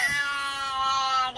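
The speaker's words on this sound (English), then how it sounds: "Did the cat say what I think it said?" A cat gives a single long, drawn-out meow from a played video clip, loud and close, with a wavering, almost speech-like tone.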